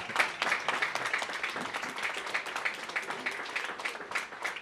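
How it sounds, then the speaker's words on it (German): Audience clapping at an Eintracht fan talk evening, a moderately sized crowd producing a brisk, fairly even patter of hand claps at middling volume throughout. "da kann man ruhig mal klatschen."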